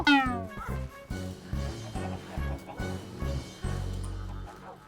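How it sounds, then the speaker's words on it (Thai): A cat in Minecraft, during a FarmHunt disguise game, gives one clear, high meow at the start. A rhythmic low thumping beat follows for the rest of the clip. "แมวแมว"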